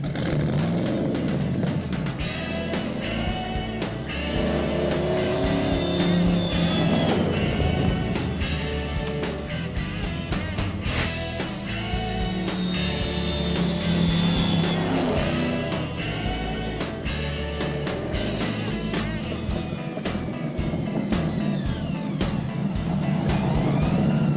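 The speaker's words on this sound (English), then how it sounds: "800 horsepower will come roaring out through the custom Cherry-Bomb exhaust and side pipes." A loud, continuous engine roar rumbles throughout with revving swells, heavy and close, as an 800-horsepower 1968 Camaro idles and throttles through a custom Cherry-Bomb exhaust and side pipes.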